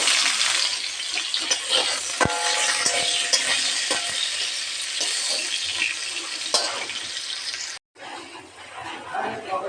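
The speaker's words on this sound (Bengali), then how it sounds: "তো তেল গরম হয়ে গেছে, প্রথমে আমি আলুটা ভেজে নেব।" Potatoes hit hot oil in a kadai with a loud, dense, continuous sizzle and crackle close by, broken by a brief gap before the frying resumes.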